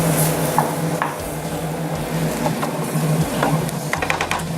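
Curry paste sizzles in a hot pan while it is stirred, giving a continuous close frying hiss with scraping spatula strokes and a few sharper clicks toward the end, without talking.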